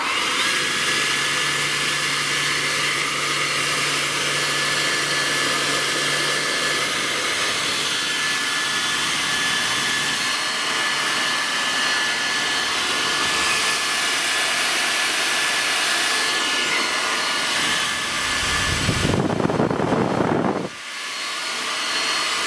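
A Parkside PPTLBA 40-Li C3 40V brushless turbine leaf blower runs at a steady, loud, high-pitched whine, with a brief dip and sweep in pitch near the end.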